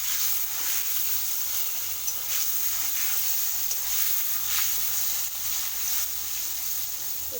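Potatoes frying in oil with salt and turmeric, a steady, moderately quiet sizzle with soft spatters throughout, no voices.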